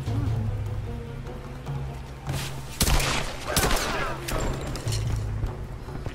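Rapid gunfire bursts from a firefight in the Tomb Raider video game, sharp cracks and volleys scattered over a steady low ambient rumble with rain-like hiss, loud and close, no talk.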